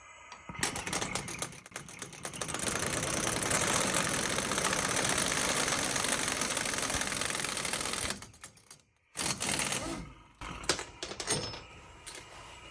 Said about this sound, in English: And then we just hit it with the impact till it stops turning.